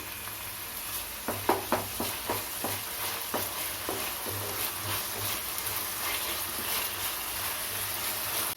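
Tomato pulp with ginger garlic paste frying in a pan for tomato rice, a soft continuous sizzle with a quick run of stirring scrapes and taps near the start, then steady quiet bubbling.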